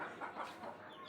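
A young hen that has just laid her first egg clucks in short, soft, drawn-out calls, close by and fairly quiet, with no voices over it.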